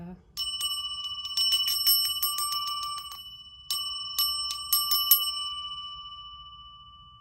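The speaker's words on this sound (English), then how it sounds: "I'm gonna ring the bell before we get started" A bell rung at the start of a spiritual card reading gives a quick flurry of bright, sustained metallic dings, pauses, then several more rings that fade away. A low background murmur sits under it.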